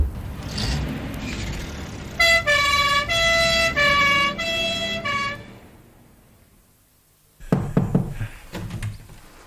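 An ambulance siren in a British radio drama wails in a steady two-tone pattern for about three seconds, fairly loud. It stops abruptly, leaving quiet, then a few heavy knocks and thuds follow.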